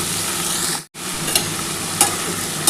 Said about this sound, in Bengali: তেলের মধ্যে কিন্তু এই কপি ডাঁটা আর আলুটা একটু ভাজতে হবে